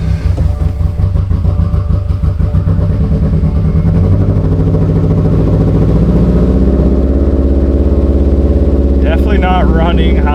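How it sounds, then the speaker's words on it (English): A turbocharged Toyota GR86 on a new tune starts up and idles roughly, its loud, uneven, lumpy engine note running steadily close by, with a brief burst of chatter near the end. "got the car tuned onto the new map, or new tune I guess, and we're gonna go ahead and do a start"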